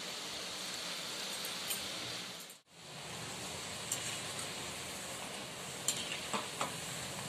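Urad dal paniyaram fry in oil until golden, a dense continuous hiss of bubbling oil, briefly cut out once, with a few light clicks near the end.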